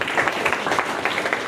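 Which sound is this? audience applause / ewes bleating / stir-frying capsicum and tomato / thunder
audience applause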